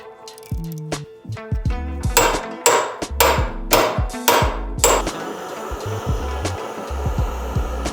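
Sharp metallic hammer blows strike a Honda Civic brake rotor, about half a dozen loud ringing hits in an uneven rhythm, followed by lighter clinks and a low hum.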